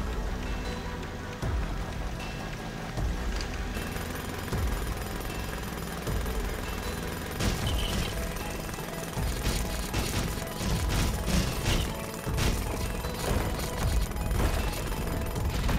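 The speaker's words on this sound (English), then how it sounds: "Just drill out those walls and the whole shebang will collapse." Drilling out house walls in The LEGO Movie video game, a continuous rattling, clattering mechanical burr with irregular heavy thuds and crumbling knocks building louder over about sixteen seconds, no voices.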